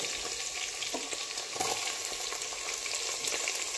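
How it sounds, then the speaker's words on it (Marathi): Onion tipped into a pan of frying cashews for vegetable pulao, with a steady sizzle and a few sharp stirring scrapes, close and alone without voices. "काजू खूप पुढे असा फ्राय नको होण्यासाठी आता याचमध्ये आपल्याला घालून घ्यायचा आहे कांदा"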